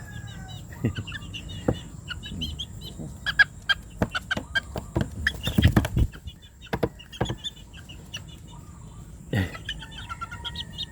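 Butcher Mt. Banahaw gamefowl chicks and grown chickens clucking and cheeping close by in bursts, with louder squawks around the middle and faint background hum.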